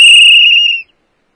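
One loud, piercing whistle blast, clear and close, that holds for under a second before cutting off into silence, with no voices.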